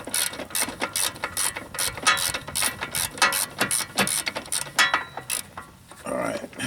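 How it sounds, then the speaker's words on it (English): A ratchet wrench loosens the lower ball joint nut on a 2000-2007 Ford Taurus, giving a loud, close, rapid run of clicking pawl strokes in bursts with brief pauses and no talk. "go down here and take off the nut for my lower ball joint"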